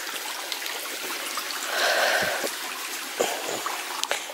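A small stream runs across fields near Cheddar, its steady close trickle and babble flowing continuously, with a few soft low thuds breaking in.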